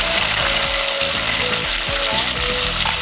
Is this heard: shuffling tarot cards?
no